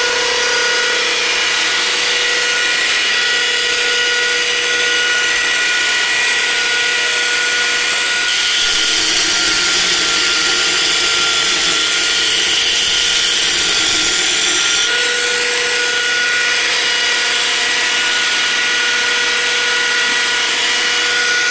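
A Reeder Products 2x72 inch belt grinder runs continuously with a loud, steady motor whine and belt hum, its tone shifting briefly in the middle as if under load before settling back.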